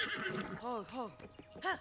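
Horse neighs in The Legend of Zelda: Tears of the Kingdom, three or four short whinnying calls in a row, with a final neigh near the end, over soft game ambience and faint hoofbeats.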